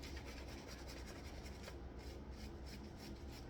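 Soap lather scrubbed steadily over a wet surface during wet shaving, a continuous soft rubbing and rasping texture at close range with no talking.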